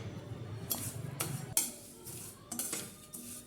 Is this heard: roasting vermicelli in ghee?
yes